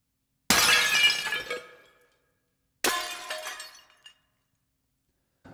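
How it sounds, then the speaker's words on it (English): Two large glass panes smash one after the other, each a loud, bright shattering crash followed by a long tail of tinkling shards, with silence between them. "take a look at the glass smash larger components first"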